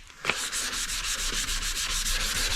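Steady, continuous sanding of a plastic 1983 Yamaha IT 175 dirt bike fuel tank with sandpaper, a rhythmic scratchy rubbing that repeats in quick back-and-forth strokes, close and fairly loud throughout.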